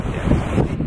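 Strong wind buffets the microphone at Biloxi beach, a loud, continuous roar of gusts mixed with the wash of surf and nothing else audible.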